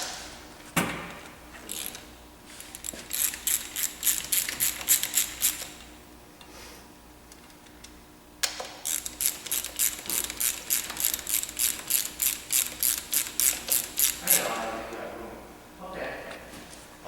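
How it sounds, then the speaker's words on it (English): A ratchet fitted with a 12-point 13mm socket clicks rapidly in two long bursts as connecting rod caps are cracked loose during an engine teardown, close and crisp, with pauses and brief clanks between strokes. "In order to remove the connecting rod caps, we need to use a 12-point 13mm socket. So you're going to crack these both loose."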